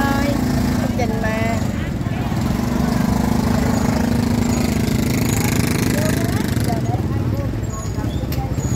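The engine of a 30-seat bus gives a steady, rough low rumble throughout, mostly covered by loud, lively talk from people nearby.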